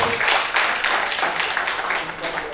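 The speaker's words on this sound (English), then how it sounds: "Please give her a round of applause." Audience applause at an investiture ceremony for a quantity surveyor, heard as a steady, fairly close wash of clapping that holds for a couple of seconds and slowly fades.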